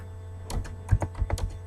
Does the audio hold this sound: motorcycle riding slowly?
no